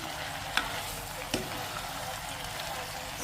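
Chicken liver sautés with garlic and onion in a pan, a soft steady sizzle with two sharp stirring knocks against the pan, fairly quiet and close.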